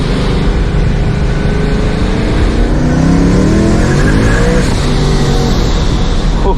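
A supercharged Ford Mustang pulls hard in second gear at night, its engine a loud, close roar with a supercharger whine rising steadily in pitch as the revs climb, while the tires squeal underneath.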